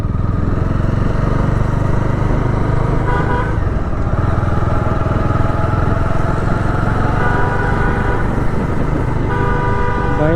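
A Hero Xpulse 210 motorcycle engine drones steadily with exhaust while riding on a road, loud and continuous, with wind rush and occasional horn toots from nearby traffic.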